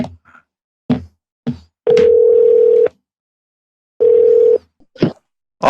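A telephone ring-back tone sounds twice as long, steady beeps while an outgoing call waits to connect, with clicks and brief sounds in between.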